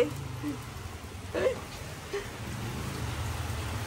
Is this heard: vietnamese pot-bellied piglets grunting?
no